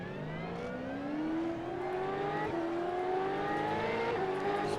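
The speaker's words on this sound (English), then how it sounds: "volume down because these things are loud." SuperCars racing around Okayama in the iRacing road game: loud, continuous engine whine climbing through gears, with a second car's engine layered underneath and brief dips at shifts, no talking.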